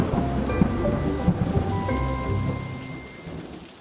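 Heavy rain patters steadily on surfaces while low thunder rumbles through the storm, loud at first and then gradually fading away.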